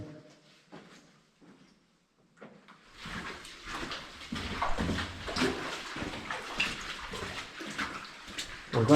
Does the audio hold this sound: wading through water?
yes